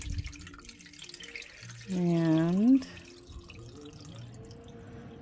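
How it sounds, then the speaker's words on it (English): Water poured over raw chicken in a cooking pot for Brunswick stew: a close, single pour of about a second with a rising, filling pitch, standing out above quiet kitchen background. "we're going to cover this with water"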